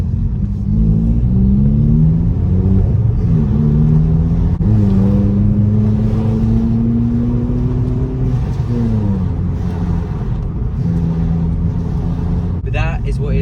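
A Vauxhall Corsa with an aftermarket Fastlanestyling exhaust rumbles loudly from inside the cabin, windows down, its pitch climbing and dropping through several revs while driving.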